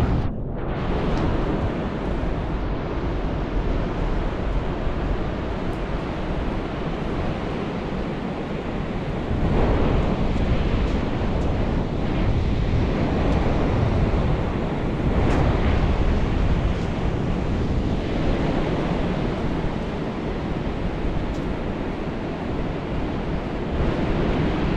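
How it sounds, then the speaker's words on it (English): Surf breaking steadily along the Pacific shoreline on the cold Oregon coast, a continuous loud roar of crashing waves mixed with gusting wind buffeting the microphone, with no voices present. "enjoy this view of the Pacific Ocean"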